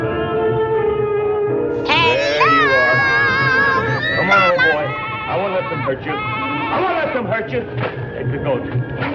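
A goat bleats amid lively voices and crowd hubbub, its wavering cries rising and falling over several seconds, loud and close, mixed in with people talking.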